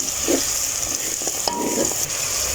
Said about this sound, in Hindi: देखिए मसाला जो है ना मेरा इतने प्यारे तरीके से भुन चुका है